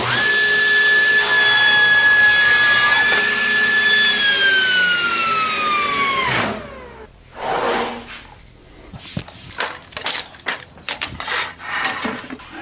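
A table saw cuts wood legs for a garden obelisk trellis, held in a shop-made fixture for repeated cuts. A loud, steady motor whine runs for about six seconds, then its pitch drops as the blade spins down, followed by scattered handling clatter.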